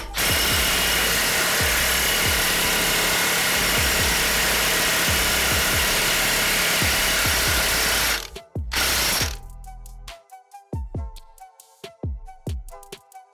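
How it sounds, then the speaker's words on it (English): Impact gun hammering loose the primary sprocket on a Harley-Davidson Softail Street Bob FXBB M8 during a belt-to-chain conversion, a loud close continuous rattling burst for about eight seconds, then a short second burst and ratcheting clicks as it winds down. "Once again, the impact gun will be your friend."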